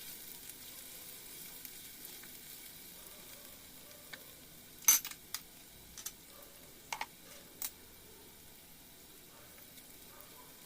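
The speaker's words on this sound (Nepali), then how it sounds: "मजाले फ्राई गर्नुपर्छ," Garlic and dried chilies fry in oil for a Nepali tomato pickle, giving a soft, steady sizzle broken by a handful of sharp pops and crackles, with no talking.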